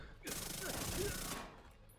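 A submachine gun in The Division 2 fires one dense, sustained burst of about a second, loud and close, then cuts off abruptly.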